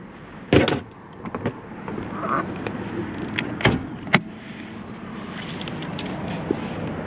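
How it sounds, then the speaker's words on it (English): Hood of a 2006 Toyota Prius being popped open: a sharp latch clunk followed by a few clicks and a second thud of the hood release, close by, with quiet background and no talking. "Let's pop the hood."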